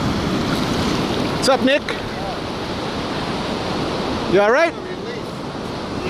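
Ocean surf rolls onto a North Carolina shore in a steady wash, roughened by wind buffeting the microphone, while people talk briefly over it.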